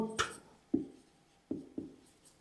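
Pen or marker strokes during a physics lecture on electric potential, four distinct tapping scratches at uneven intervals, close and fairly loud in a quiet room with no talk.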